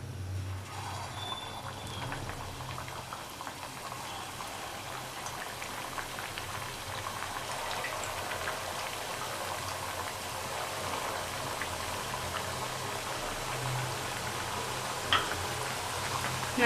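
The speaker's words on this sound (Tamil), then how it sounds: "இதெல்லாம் ஃப்ரை பண்ணி எடுத்துக்கலாம்." Badusha dough balls deep-fry in hot oil over a medium flame, giving a steady, close, bubbling sizzle that stays even and gentle throughout without speech.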